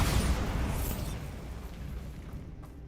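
A Bombarda spell in Hogwarts Legacy bursts in one loud blast at the start, then its rumbling debris tail slowly fades away over a few seconds.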